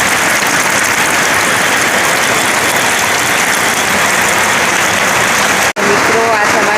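Heavy rain pours steadily on a farm with cattle kept outside, a dense continuous hiss throughout, with a brief dropout near the end and faint voices underneath.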